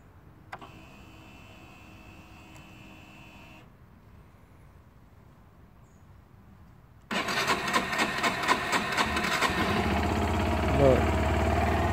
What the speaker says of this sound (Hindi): ये स्टार्ट हो गया, बड़ी खुशी होती जब स्टार्ट होता है मोटरसाइकिल।